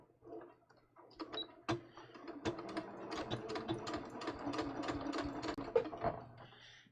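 A sewing machine stitching a double-faced linen knit top, its needle running in a quick steady mechanical rattle after a few hesitant starts, close and fairly quiet, no talking.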